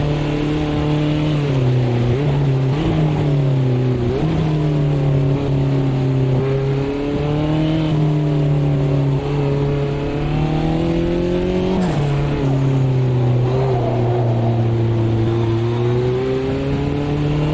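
Race car engine on track in Automobilista 2: a loud, close, droning engine holds steady pitch, then dips and climbs again with gear changes and lifts, running continuously for the whole stretch.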